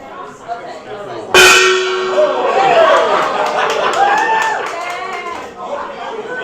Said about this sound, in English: That was the best gong hit we've ever had.